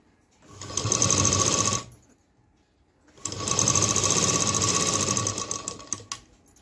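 A sewing machine stitches a blouse sleeve in two loud, steady bursts of fast whirring with a short pause between them. No voices are heard.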